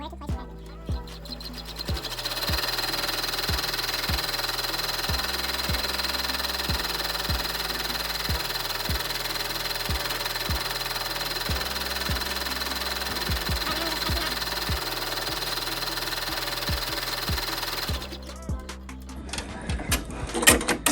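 An embroidery machine sews an applique placement stitch on a T-shirt, giving a steady mechanical hum with regular rapid thumping needle strokes that run for most of the clip, then stop near the end.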